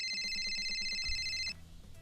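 A mobile phone rings with a bright, repeating electronic chime, rapid pulsed tones for about a second and a half before cutting off abruptly, leaving a quiet room.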